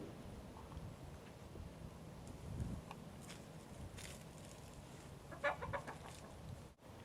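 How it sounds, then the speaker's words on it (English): Soft, scattered clucking from chickens over steady outdoor background noise, with a brief louder burst of calls near the end. "you're going to see lots of chickens going around"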